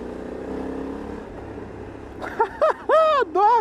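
A Honda Africa Twin DCT motorcycle in sport mode revs with a steady engine drone for about two seconds. A voice then cuts in with excited exclamations over the fading engine.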